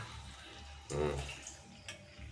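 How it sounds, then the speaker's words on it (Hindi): Water poured into a cooking pot while a Manipuri vegetable dish is being made, a short splashing pour that swells for about a second and then fades into a quiet kitchen. "पानी डाल रहा हूँ।"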